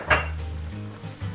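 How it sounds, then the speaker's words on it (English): Black bean paste and leek cooking in oil in a pan give a short metallic clink of utensil on pan over a low, steady sizzle, with a second soft knock at the end. "I let that cook for a little bit before adding in some of the white part of a leek"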